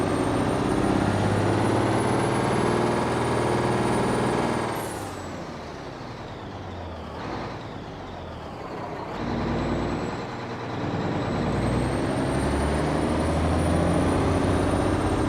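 A heavy truck engine in American Truck Simulator drones loudly and steadily, dipping for a few seconds mid-clip before building back up, with a hiss of air brakes mixed in.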